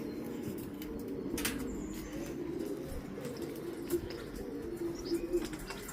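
Young racing pigeons moving about a loft, soft low cooing running through with bursts of wing flaps and faint chirps, fairly quiet and close, no talk.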